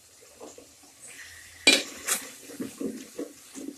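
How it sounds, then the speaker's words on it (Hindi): Tomatoes and spices for a ridge gourd (tori) curry are fried in a pot while a spoon scrapes and clanks against the metal, a sharp knock followed by repeated stirring scrapes over a faint sizzle. "और इसको अच्छी तरह भून लेना है।"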